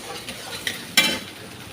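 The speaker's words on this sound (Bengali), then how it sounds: "হালকা ভাজা ভাজা হয়ে গেলে তারপর আমি এখানে এই পেস্টটা দিয়ে দেবো, যেটা পিষে রেখেছি ওইটা দিয়ে দেবো" Sizzling in a frying pan as a ground spice paste goes in for matar paneer, a steady low fry broken by one sudden hissing surge near the end.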